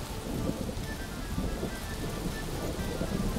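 Steady rain with low thunder rumbles in the video game Craft the World, a dense continuous wash at even loudness with no voices over it.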